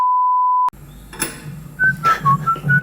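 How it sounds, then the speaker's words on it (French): Someone whistles a light tune in short, rising bursts after a steady electronic tone. The whistling is close and clear over a quiet room. "Le mec, il arrive comme ça, il sifflote"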